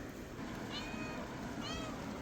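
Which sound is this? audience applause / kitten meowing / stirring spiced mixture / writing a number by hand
kitten meowing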